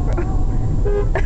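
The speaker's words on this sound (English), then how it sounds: "You can figure out where the honking is coming from." A car horn honks in a few short, close blasts over a low rumbling background, with some voice-like sound mixed in.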